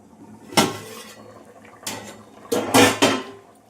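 A few clanks of a metal lid set on a pot of fish curry, with a sharp clatter and a second double knock near the end, no voices.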